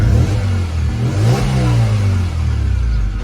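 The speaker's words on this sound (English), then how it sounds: "it still sounds like a baby V10 because I think the exhaust" A Seat Altea FSI engine revs up and falls back, loud and close, with a rough, rattly exhaust note from a loose exhaust.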